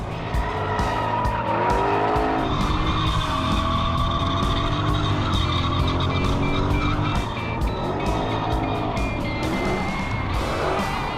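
A Ford electric car drifts sideways around a track at the SEMA show, tires squealing continuously in long wavering screeches over a loud drivetrain whine, close and intense throughout.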